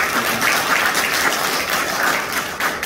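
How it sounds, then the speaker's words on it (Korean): Steady, dense applause from a gathered audience at a Korean community event in Gwangju, continuous and fairly loud throughout with no speech over it. "감사한 마음을 모두 박수 주셔야 합니다"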